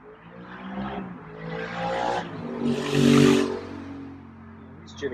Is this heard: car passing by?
yes